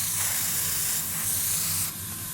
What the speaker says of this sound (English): So I spray them right on the sprue